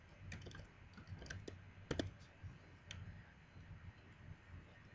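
A computer keyboard is typed on, quiet and close, in scattered taps and clicks with a brief cluster of sharper keystrokes near the middle.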